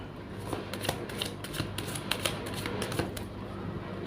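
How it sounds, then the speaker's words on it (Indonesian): Tarot cards are shuffled close up, a continuous crisp riffling with rapid papery flicks and small clicks that carry on steadily, with no talking. "Saya shuffle terlebih dahulu, bikin berdebar"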